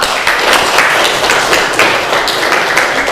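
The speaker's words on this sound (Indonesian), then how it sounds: "Tepuk tangan dulu." Students in a classroom clap together, a loud, close patter of many hands beating in quick uneven bursts that fill the short stretch without any talk.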